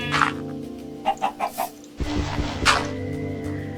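A Minecraft chicken clucks in short separate bursts: one near the start, a quick run of three or four in the middle, then another after a pause, over a faint steady background tone.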